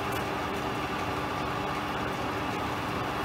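A Schaublin SV52 high-speed milling head spinning at 400 RPM gives a steady, continuous mechanical hum. It runs alone and evenly with no talk.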